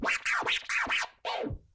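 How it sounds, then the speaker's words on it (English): A DJ performs a rhythm scratch on a turntable platter without using the crossfader, made of five baby scratches: four quick, even back-and-forth record swipes and then a longer fifth one, loud and close with no talking. "The rhythm scratch is made of 5 baby scratches."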